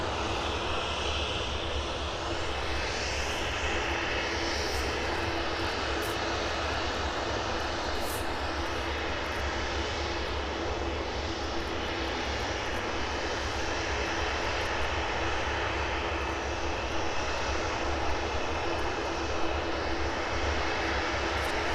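A Boeing 737-800 jet departing at an airport in the early morning, its engines a steady, continuous distant roar that holds evenly throughout with no talk over it.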